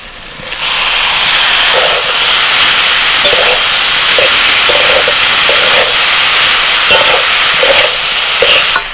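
Boiled banana stem (thor) hits a hot pan with fish and sizzles in a loud, steady hiss from start to finish, marked by occasional faint clicks of stirring.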